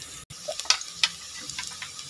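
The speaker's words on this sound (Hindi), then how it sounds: "अभी अनियन हमारा हमने उसी तेल में डाल दिया था, अभी ये थोड़ा थोड़ा सा है ना रोस्ट हो रहा है" Onions roasting in oil in a pan for chicken pulao, a soft steady sizzle with a few light clicks and scrapes from stirring, close and fairly quiet.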